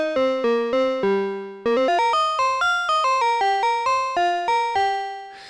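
Bell-like FM tones from a Minimoog Voyager synthesizer play in a rapid sequence of about twenty struck notes with bright harmonic overtones, each decaying quickly. The octaves are raised, and the phrase ends on a longer ringing note.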